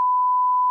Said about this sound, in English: You could beep it out.